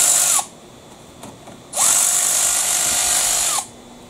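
Power tool spinning out axle bolts on a 1997 Jeep Wrangler TJ, a brief whine, a pause, then a longer loud high-pitched run of about two seconds that stops sharply, with no talk.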